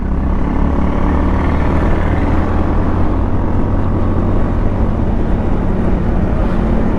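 Hero Glamour motorcycle out on a ride, its engine drone loud and steady throughout, mixed with heavy wind rush and road noise and no pauses.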